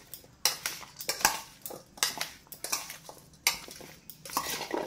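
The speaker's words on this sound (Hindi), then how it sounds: "इन सबको खूब अच्छे से आप मिला लीजिए।" A spoon stirs and tosses sweet potato chaat ingredients in a bowl, making a run of close, rhythmic scrapes and metallic clinks against the dish, about a dozen strokes with short pauses.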